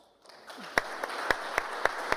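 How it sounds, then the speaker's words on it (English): After a brief quiet moment, a few people clap for panelists at a talk on green startups, sparse, distinct claps spaced about half a second apart over a thin background. "I would invite you to give them a big applause."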